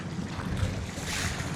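Waves slapping a fishing kayak from both directions near a seawall, a loud, close, choppy wash of water mixed with gusting wind noise and no talk.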